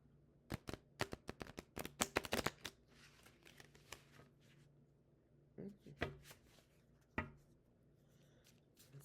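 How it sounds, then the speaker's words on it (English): A large tarot card deck shuffled by hand, a quick flurry of close, crisp riffling snaps, then quieter handling and a few more sharp card slaps, with no talk. "This is the normal shuffling."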